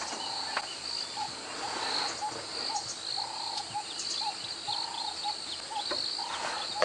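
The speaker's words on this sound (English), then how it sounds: "There's the turtle dove." A turtle dove gives soft, low purring coos in a repeated rhythm, faint and somewhat distant against a steady early-morning backdrop of insect buzz and high chirring.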